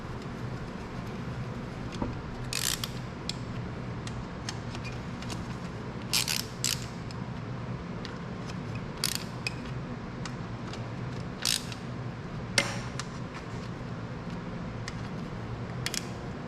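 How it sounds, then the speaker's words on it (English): Bolts come out of a Turbo 400 transmission pump with a ratchet wrench in a shop: scattered bursts of quick metallic clicking over a steady low background hum, moderately close, with no talk. "Take those bolts out."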